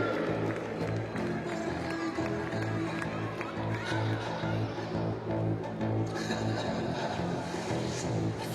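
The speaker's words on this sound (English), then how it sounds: "Please give me applause for Serbia, Cuba, Russia and England." Crowd applause fills a basketball arena at the 2014 FIBA World Championship for Serbia, Cuba, Russia and England, a steady roar of clapping and cheering mixed with a continuous low arena hum and faint voices.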